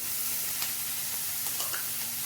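Cabbage and capsicum fry in a hot pan with a steady, bright sizzle and occasional stirring scrapes, close up and without talk.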